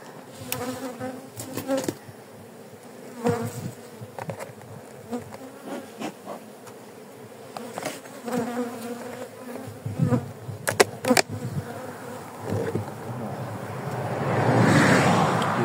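Honeybees buzz around an opened hive during an urgent colony rescue, a dense, close swarm hum with individual bees zipping past the listener, swelling louder toward the end.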